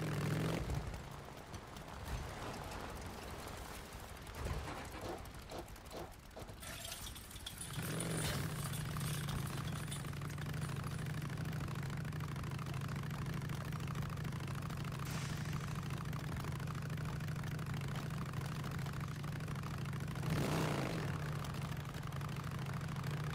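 A motorcycle engine idling in Days Gone, a steady low throbbing drone that settles in after a few seconds of scuffling noise and holds almost unchanged to the end.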